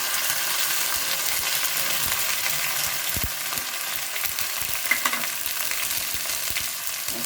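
Ginger and green chili paste frying in hot oil for a kolamocha recipe, giving a steady close sizzle with small pops and spatters throughout, no voices.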